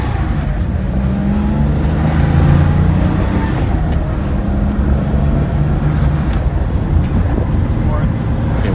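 A 1970 Porsche 911 T engine drones steadily while the car is driven up through its gears, a low continuous hum with shifting tones, heard from inside the cabin.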